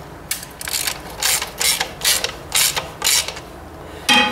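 A hand ratchet cranks bolts into the housing of a 1944 Ford 2N tractor, giving about eight clicking, rasping strokes in a fairly even rhythm, close and clear, with no talk.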